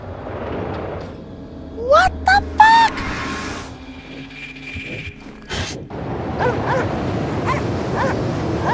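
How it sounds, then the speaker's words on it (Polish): Sled dogs barking in the video game Cryostasis: a short burst of yelps and rising whimpering barks rings out near the start, then gives way to a low rumbling ambience and a few scattered thuds. "Zaprzęg psów."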